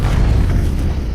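In GTA 5 with a Sonic mod, a game explosion lands as a single loud, deep boom that sustains a heavy low rumble throughout.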